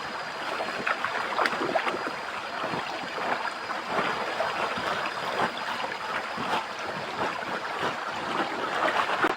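A flowing forest stream beside a bamboo-shoot gathering spot, a steady broad rush and splashing of water that continues unbroken and fairly close, with no voices.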